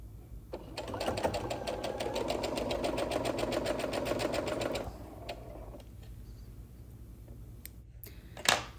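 A sewing machine stitches quilt binding off the edge of a quilt in a fast, even run of mechanical ticks for about four seconds, then stops, leaving a quiet room with a few small clicks and handling sounds.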